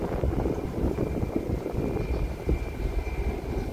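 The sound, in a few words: airplane taking off from Sultan Hasanuddin airport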